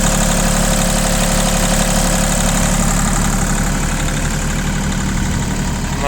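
An ISEKI TU150 tractor engine runs at a steady idle, loud and close. The dense, even mechanical rumble and clatter continue without pause throughout.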